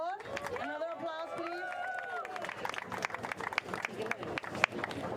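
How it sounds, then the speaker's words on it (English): An outdoor protest crowd outside the Supreme Court, opposing the census citizenship question, breaks into scattered clapping that thickens into applause after a speaker's voice at the start, with sharp claps rising over murmuring. "Otro aplauso, por favor."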